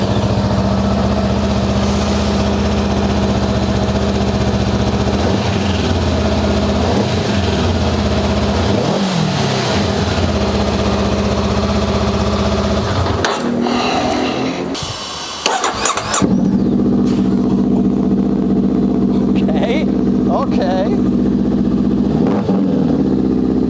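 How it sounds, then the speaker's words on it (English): A Honda Rebel 500 on its stock exhaust, starting up and idling loud and close, with several sharp throttle revs rising and falling before it settles back to idle. "let's see what the stock exhaust sounds like"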